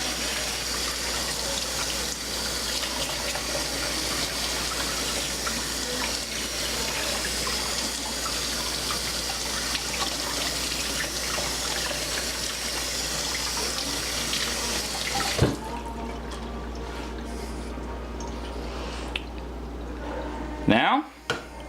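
Steady running water from a kitchen faucet while a knife is washed by hand, a continuous close splashing stream that stops abruptly near the end, followed by a few quieter clinks and drips.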